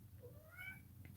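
A cat gives a single soft, rising meow, faint and brief over low room hum, with no talk in between.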